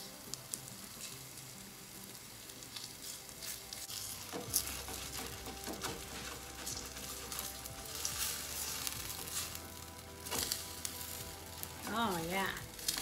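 A zucchini pancake (jeon) fries in a pan with a steady, moderate sizzle throughout, broken by occasional scraping and stirring noises and a brief higher squeak near the end.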